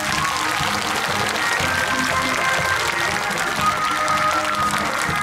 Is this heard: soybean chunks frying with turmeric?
no